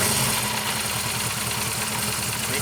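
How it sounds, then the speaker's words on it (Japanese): A restored Honda CB400Four motorcycle, fitted with a Uotani SP2 ignition, idles steadily up close, its four-cylinder engine putting out an even, loud, rhythmic low putter with no talk. "ちょっとエンジンかけてみましょう。"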